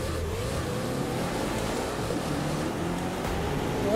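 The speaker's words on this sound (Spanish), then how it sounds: "ya le escuchaste aquí el turbo" Engine and turbo sound from a car in The Crew 2 on a convoy route through LA, a steady, loud droning roar that holds throughout and swells slightly at the end.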